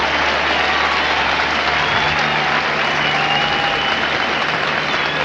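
A capacity crowd of over 59,000 football fans at Green Bay gives a sustained, roaring ovation, a dense wall of applause and cheering that stays loud throughout.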